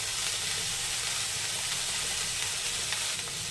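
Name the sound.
potatoes and bottle gourd stems frying in a pan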